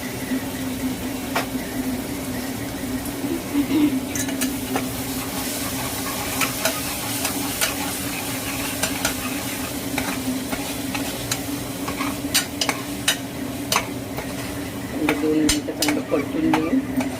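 Fish curry masala frying in oil as it is stirred, a continuous moderate sizzle with scattered sharp scrapes and clicks of a spoon against the pan throughout.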